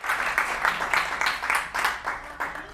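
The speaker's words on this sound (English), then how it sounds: "So clap for it." An audience claps steadily at a speaking event on earning money from a YouTube channel, a dense, continuous patter of many hands with slight swells, close and fairly loud, with no talking.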